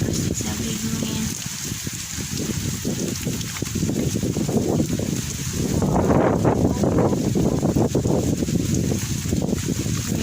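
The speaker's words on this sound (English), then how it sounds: "it's a big wind" Strong wind roars steadily across an outdoor microphone on a rainy day, a loud continuous buffeting rush that surges stronger midway, with a voice briefly audible beneath it.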